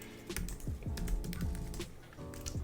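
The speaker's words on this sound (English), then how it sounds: "you just type in your information that you need" Fast, steady typing on a computer keyboard, close and clear, with rapid key clicks running through the whole short stretch while personal details are entered for a Vanguard brokerage account, no voices.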